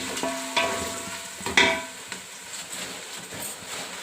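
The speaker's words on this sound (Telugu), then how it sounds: "ఈ తాలింపు అంతా మంచిగా వేగింది కదా." Spice tempering stirred in a hot pan for puffed rice, with a soft sizzle under several sharp scrapes and clinks of a spoon against the pan.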